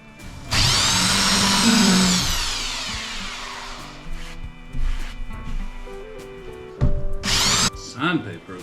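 An electric planer whines loudly as it cuts into wood for a couple of seconds, then winds down, followed by shorter bursts and clattering.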